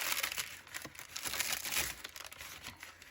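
Continuous crinkling and crackling as handmade paper made from napkins is peeled away from a surface, fairly faint and irregular, with no voices.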